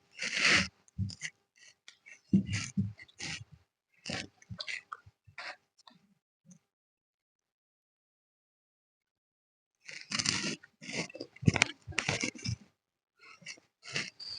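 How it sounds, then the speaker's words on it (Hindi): Scissors cut coat fabric along chalk markings for a double-breasted two-button coat, with clusters of crisp snipping strokes close by, a long quiet pause in the middle, then more rapid cutting. "तो चलिए दोस्तों, अब हम काट देते हैं। बिल्कुल एकदम मार्किंग मार्किंग टू मार्किंग काटना"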